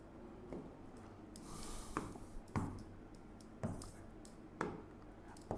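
A pen writes a number during a maths lesson, giving close, quiet scratching strokes with a few louder taps against the writing surface.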